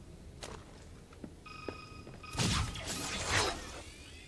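A phone rings inside the video game Resident Evil 6, a short electronic trill heard between clicks and a burst of shattering and whooshing game effects, moderately quiet with no talk.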